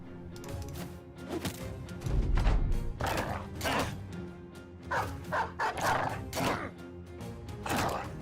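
Several dogs in a video game bark and yip in repeated bursts, loud and busy, mixed with thumps and other game sounds throughout.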